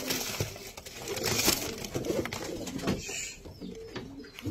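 Pigeons in a loft coo and flutter among a busy mix of bird calls and rustling, moderately loud and steady throughout, with a brief lull near the end.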